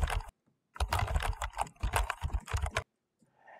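Fast, close typing on a computer keyboard while renaming a folder, with clustered key clicks in two bursts separated by a short pause, no speech.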